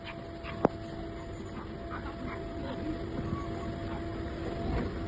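A dog whimpers and pants faintly at some distance amid background noise, with one sharp click near the start.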